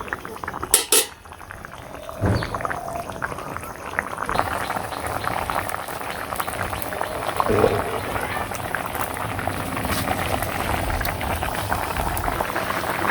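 Chicken curry broth boils in a pot in a village kitchen, a continuous close bubbling and popping that begins with a few clinks of a utensil against the pot.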